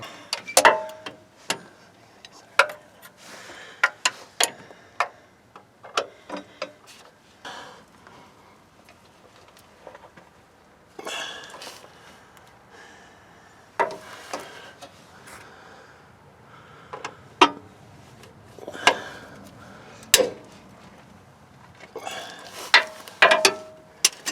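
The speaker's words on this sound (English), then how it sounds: "I had to use the breaker bar quite a bit, and then the impact the rest of the way" Ratcheting clicks and metallic clanks from a breaker bar and impact tools working on Nissan Titan motor mount bolts, irregular bursts of tool noise and sharp knocks, close and moderately loud, with quiet gaps between.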